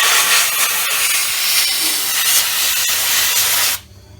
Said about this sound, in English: you will have really freaking good results with your sandblaster